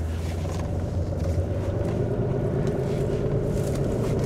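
Car engine idling steadily under the hood, a deep continuous rumble with layered low harmonics that holds an even level throughout, no talking.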